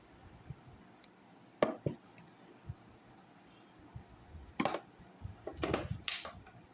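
Milk powder spooned into milk makes faint, scattered clinks and taps of a spoon against the container, with a brief cluster of soft rattles near the end.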